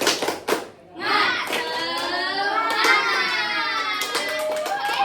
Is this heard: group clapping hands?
yes